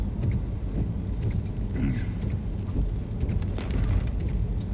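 Rain falls around a car with its window partially down on a rain-soaked California coastal mountain road, a steady dense hiss with scattered drop impacts and a low rumble underneath.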